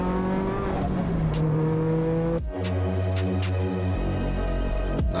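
A Toyota GT86 race car with a high shifter revs on a night drive, its engine rising through steady tones and then dropping sharply, heard clearly from inside the car with no talk.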